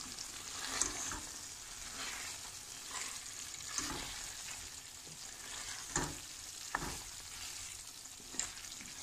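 Potatoes frying in oil with spices for a baim fish curry, a steady soft sizzle with repeated scraping stirs every second or two, close but fairly quiet, no talking.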